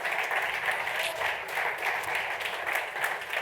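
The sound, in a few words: audience applause for Fabio Ferrari coming on stage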